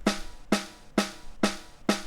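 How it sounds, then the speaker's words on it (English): A dry, unprocessed snare drum is struck five times at an even, moderate pace, each hit short and crisp with a quick decay. "this is how the snare down sounds without any plugin"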